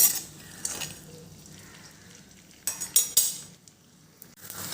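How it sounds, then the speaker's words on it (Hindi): Edible gum stirred and roasted slowly in a pan over low heat for winter laddoos, heard as soft close scraping with a few sharp clinks of spoon against metal, no talk. "हल्की आंच पे इसको धीरे धीरे चलाते हुए हम भून लेते हैं।"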